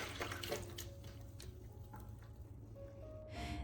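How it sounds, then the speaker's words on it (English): Hot ginger water pours into a foot basin, a steady faint trickle and splash running continuously with a few drips and a louder gush at the end. "pour the ginger water into a foot basin"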